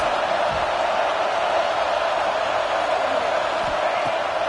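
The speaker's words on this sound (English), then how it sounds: "Listen to this crowd just shaking the girders of this place, trying to help their defense." Football stadium crowd roaring steadily to help the home defense, a dense, loud wall of sustained noise filling the whole stretch without breaks.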